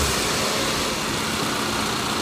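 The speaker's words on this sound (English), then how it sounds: "put the engine back to idle" A car engine idles during a 6, 8 and 12 V battery system tester's alternator check, a steady close rumble with broadband noise and no talking.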